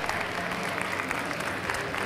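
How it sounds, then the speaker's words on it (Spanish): Audience applause at a marketing conference talk, a steady dense wash of many hands clapping that fills the whole short stretch at moderate level with no voices over it. "dense un aplauso, por favor"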